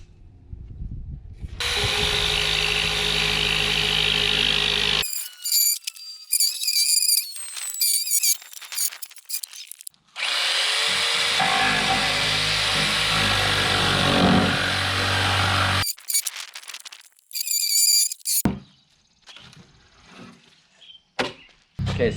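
A power saw cuts through plywood for a mountain bike kicker ramp in two long, loud bursts, with quiet pauses and short clattering handling noises between them.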